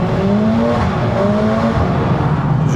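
A 2026 Mercedes A45 AMG drives along, its engine note a loud, close, steady drone with gently rising and falling pitch, tyres rumbling on asphalt underneath.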